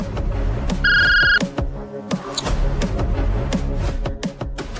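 A phone rings with a short electronic tone, heard over background music in a Marathi TV drama scene, followed by further musical sounds.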